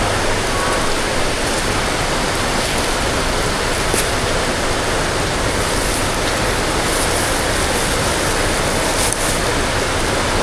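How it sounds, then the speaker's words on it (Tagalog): Heavy rain pours down in a dense, constant roar of broadband hiss that stays loud and even for the whole stretch, with no voices. "Lumakas na ang ulan"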